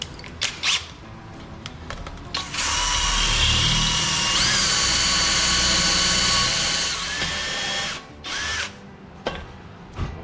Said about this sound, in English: Little step drill. All right, not really a step drill, it's just got a collar on it for the depth.